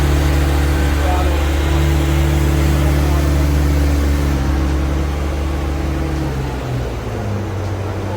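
A stock Nissan R34 GT-R engine holds steady at 3,000 RPM on a dyno, a loud, even drone with strong low harmonics that drops in pitch near the end as revs fall.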